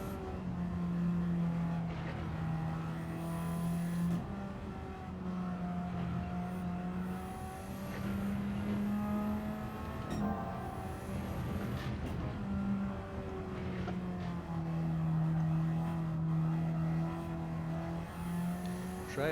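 Radical SR3 race car engine in Gran Turismo 7, a high-revving racing engine that climbs through gears and drops under braking, loud and steady throughout the lap with repeated upshifts and no talk.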